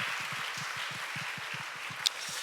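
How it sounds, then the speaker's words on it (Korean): A church youth-group gathering applauds their pastor with a broad, hissing wash of many hands clapping together, steady and fairly near, under low rhythmic thumps. No speech. "우리에게 김영환 목사님 허락해 주신 하나님께 감사드리고 너무 수고하셨다고 우리 박수 한번 하겠습니다"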